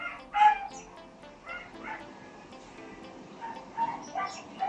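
A neighbour's dog barks and yips a few times at a distance, with soft whimpering between the barks.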